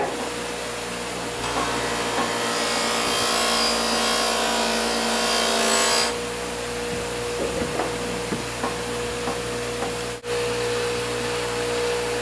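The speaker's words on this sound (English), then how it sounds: "we can go ahead and buff it with the Cecil wheel with some coarse rubbing compound" An axe head pressed against a spinning sisal buffing wheel loaded with coarse rubbing compound gives a loud, steady whirring drone with a faint rising tone. The grinding hum runs unbroken, changes character partway through, then carries on with no voices.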